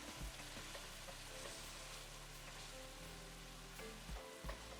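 Ground lamb with spices frying in a pan as a wooden spatula breaks it up, giving a faint, even crackling sizzle with soft scraping throughout and no voices.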